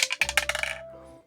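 Dice tumble and clatter across a hard surface in a quick burst of sharp, bright clicks and bounces, then settle into a fading ring. The sound is close and there is no talk.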